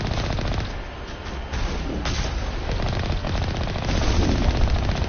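Rapid automatic gunfire rattles in Mass Effect Legendary Edition, a loud continuous stream of shots with a few heavier bursts, growing stronger toward the end.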